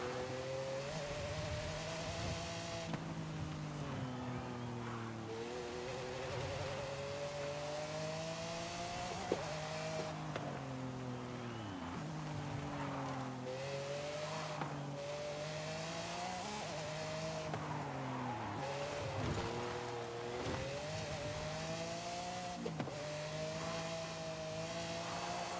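A car drifts in the racing game Forza Horizon 5. A loud, steady engine drone rises and falls in pitch as the car slides, with tire squeal over it and no talking.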